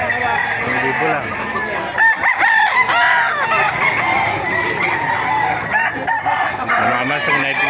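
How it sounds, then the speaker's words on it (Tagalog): Roosters crow repeatedly among clucking chickens at a crowded poultry market in Baliuag, loud and close, with a voice briefly audible in the mix. "Marami pa mga manok dito."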